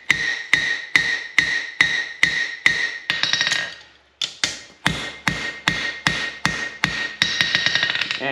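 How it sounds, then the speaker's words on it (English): Blacksmith's hammer strikes hot steel on an anvil in steady overlapping blows, about two per second with bright ringing tops, pausing briefly before resuming the same even rhythm, close and loud with no talking. "You also want to do overlapping hammer blows"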